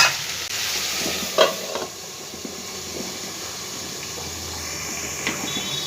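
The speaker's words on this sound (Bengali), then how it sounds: "ভালো করে এটাকে একটু নাড়ানাড়ি করে নেব।" Vegetarian greens with a small handful of shelled peas sizzle and fry in a wok over a medium gas flame, with steady hiss and a few louder scrapes of stirring near the start and end, no talk.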